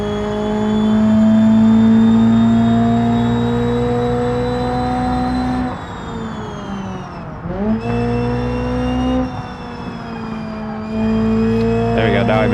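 A race car engine in a racing video game holds a loud, steady, tonal full-throttle drone, drops briefly in pitch and volume as if lifting off mid-run, then climbs back to full power.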